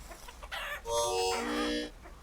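Chickens in a Vintage Story chicken coop cluck and squawk loudly up close, with a sharp, agitated burst of overlapping fowl calls like a scuffle among the hens.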